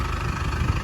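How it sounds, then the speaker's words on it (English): A diesel truck engine idles steadily close by while warming up, its low rumbling throb unbroken and even for the whole stretch. "so I'm warming up the truck"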